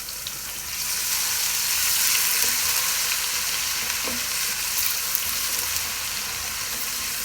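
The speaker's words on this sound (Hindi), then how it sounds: "अब हम इसमें क्रश्ड हमारा गार्लिक और जिंजर वो डाल देंगे।" Crushed garlic and ginger fry in oil with cumin seeds, making a steady, dense sizzle and crackle that swells after the first second and holds evenly to the end, with no voices.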